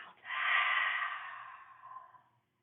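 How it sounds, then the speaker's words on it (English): A single slow, deep exhale through the mouth after a breath in through the nose, close and soft, trailing off into silence during a calm yoga session. "Inhale through the nose, exhale out of the mouth."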